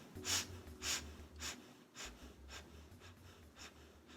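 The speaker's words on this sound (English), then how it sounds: "We also want to make sure that we are sniffing through our nose." Sharp, rhythmic nasal sniffs from yoga breath of fire, about eight quick, evenly spaced breaths through the nose, close and fairly quiet with no speech.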